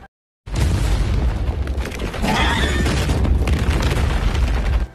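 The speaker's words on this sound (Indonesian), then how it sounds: "Bersama dengan jalan keluar yang ditutup dengan menggunakan bom arrow." A bomb arrow explodes in a survival video game, a loud sustained boom and rumble that fills the clip after a brief silent start.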